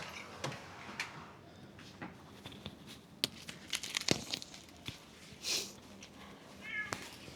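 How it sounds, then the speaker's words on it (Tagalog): A pet cat named Orion meows several times at close range, short cries scattered among crinkling and rustling handling noises in a quiet room, with no talking. "nahanap ko yung pusa ko"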